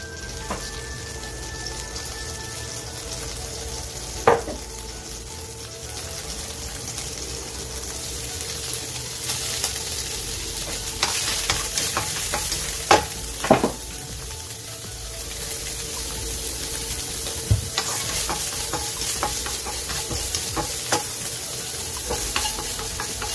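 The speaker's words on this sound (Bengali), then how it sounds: "প্রথমে চিকেনটা ভেজে নেব। একটু বাটার দিয়ে দিয়েছি, মেল্ট হলে চিকেনগুলো দিয়ে দেবো।" Chicken frying in melted butter in a pan, a continuous even sizzle lasting throughout, with a few louder spatters and utensil clinks along the way, no voices.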